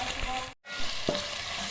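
Ginger garlic paste fries with softened tomatoes in a pan, a close, steady sizzle with a brief dropout and a small clink of a spoon, no talk.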